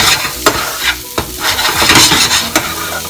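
A spoon stirs green poha in a frying pan, with close, repeated scraping strokes over a constant sizzle and no voices.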